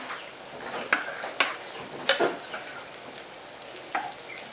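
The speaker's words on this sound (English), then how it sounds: "So I'm gonna give this a stir." A pot of minestrone with canned tomato sauce is stirred, giving a quiet low simmer broken by several distinct spoon knocks and scrapes against the pot, with no talking.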